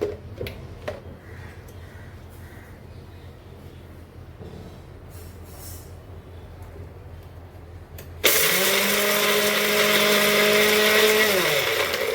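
A kitchen mixer grinder coarsely grinds coriander seeds, green chillies and garlic. After a quiet stretch of faint kitchen noise, the motor kicks in with a loud, steady whirring roar that lasts for the final few seconds.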